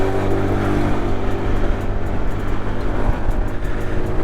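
A 2014 Honda Zoomer X110 scooter hums loudly and steadily at close range on an urban road, its small engine droning at a constant pitch with wind rush and no speech.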